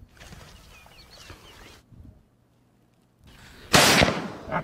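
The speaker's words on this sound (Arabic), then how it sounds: "عدة رصاصات لإصابة فرس النهر" Gunshots are fired at a hippopotamus outdoors. Birds and distant murmur fill the air, then a loud, sharp crack bursts out near the end.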